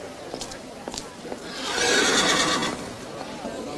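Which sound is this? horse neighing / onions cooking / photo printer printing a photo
horse neighing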